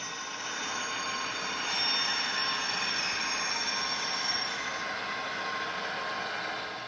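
Rolling HO scale model train of BN F-units with a thin, high-pitched squeal from the wheels over a steady mechanical hum.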